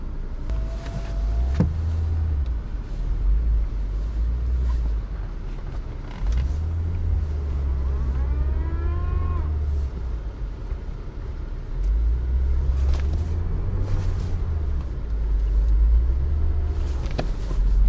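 A Chevrolet Niva rolls downhill on a long drive, its engine and road noise a continuous low rumble that swells and eases, with faint creaks and whines from the cabin.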